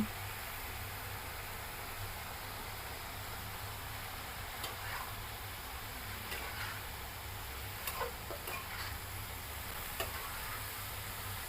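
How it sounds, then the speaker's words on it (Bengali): Mixed vegetable bhaji being stirred in a pan, a steady soft sizzle with scattered scraping clicks of the spoon running throughout, close and even, with no voices. "এবার ভালো করে মিশিয়ে দিব"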